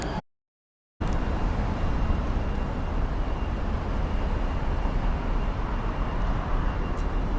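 Train pulling into a Taipei metro platform, a steady loud rumble of wheels and motors filling the station after a brief moment of silence, with a faint repeating high chime overhead.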